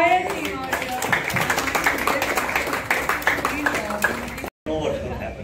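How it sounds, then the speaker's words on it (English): An audience applauds the film team at the teaser launch of Bharateeyans, with steady clapping from many hands under loud voices and cheering, close and sustained, then a brief cutoff and more talk. "Can we have a huge round of applause for the entire team out here?"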